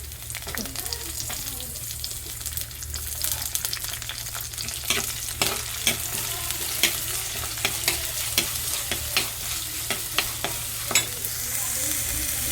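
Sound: tomato added to sautéed ginger, garlic and onion, stirred

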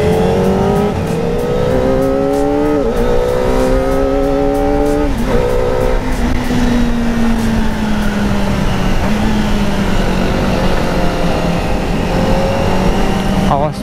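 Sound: car driving fast on mountain road

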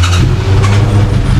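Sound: car engine started after restoration

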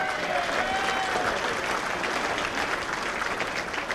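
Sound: applause at banquet

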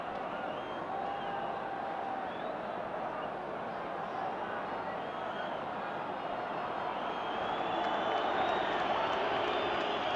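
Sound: football stadium crowd reacting, irritated

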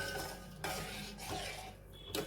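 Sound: stirring sugar syrup in pan on medium heat

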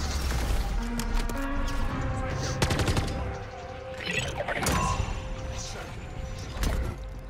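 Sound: gunfire from people shooting at a camp in Modern Warfare 3 Zombies video game

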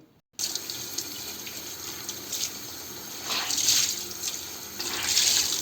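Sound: washing a cleaning cloth under a running tap

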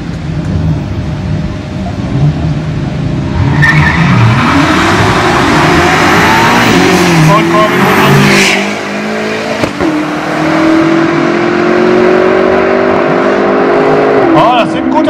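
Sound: BMW and another car accelerating in a quarter-mile drag race

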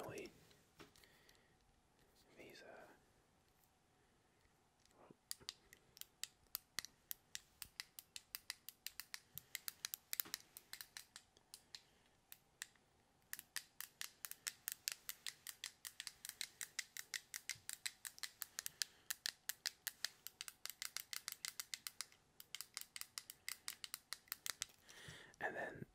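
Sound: clicky buttons on a stress cube being pressed

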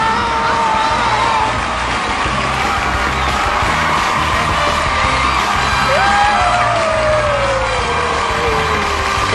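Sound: studio audience applause and cheering welcoming guests

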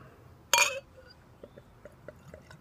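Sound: Bud Light Platinum beer pouring into a glass

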